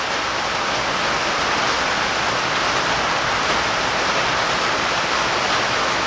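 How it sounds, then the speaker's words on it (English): Heavy rain pours down steadily outdoors during work on a 1915 VW build, a dense, loud, unbroken hiss with no pauses and no voices. "It's raining good now, boys."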